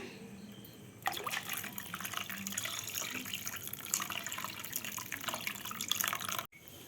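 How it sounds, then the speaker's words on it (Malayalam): Tamarind water pours steadily into a pot of rasam with a trickling, splashing rush that starts abruptly and runs for several seconds before cutting off. "നമുക്കിനി പുളിവെള്ളം ഒഴിക്കാം."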